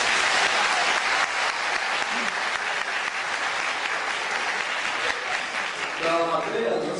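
Wedding guests break into loud, dense applause that fills the room steadily throughout, with a voice briefly speaking over the clapping near the end.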